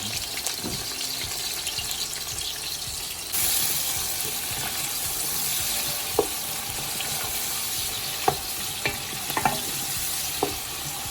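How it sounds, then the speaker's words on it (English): Three medium chopped onions frying in hot oil for keema mutter, a steady loud sizzle throughout that grows fuller partway through, with a few sharp clinks of a utensil against the pan. "Now we're gonna just add 3 medium onions cut and let them cook down."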